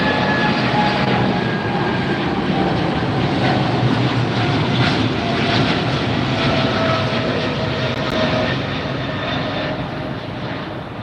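A DHL cargo widebody jet at LAX passes with a loud, steady engine roar that fills the scene and slowly fades toward the end, with no talk.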